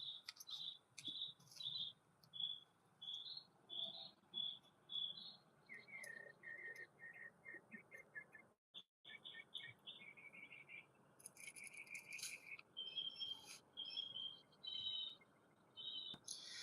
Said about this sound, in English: in the distance we're hearing the various mockingbirds and other birds are tweeting in the distance